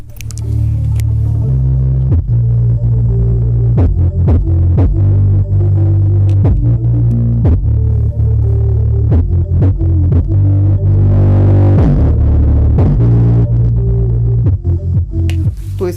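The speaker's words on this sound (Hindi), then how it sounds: "फिलहाल अभी मैं बेस का ही साउंड सुना रहा हूँ।" A home theater speaker plays only bass in bridge mode, giving loud, deep throbbing pulses in a steady repeating rhythm with a continuous low hum underneath and no talking.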